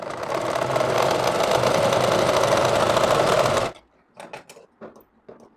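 A sewing machine runs steadily for almost four seconds, double-stitching the sleeve of a girl's frock with a pitcher-shaped sleeve, loud and close, then stops abruptly, leaving a few faint knocks and handling sounds.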